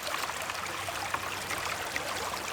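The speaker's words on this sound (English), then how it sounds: "We're just going to run it through this sluice and see what we got." Glacial water runs steadily through a gold sluice fed by a hand suction dredge, a continuous close rushing trickle.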